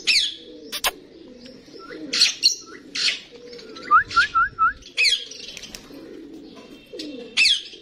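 A mixed flock of domestic pigeons at a village home loft in Punjab, with repeated short chirps, squawky calls and a run of soft coos, plus brief wing-flap bursts, heard fairly close with no talking.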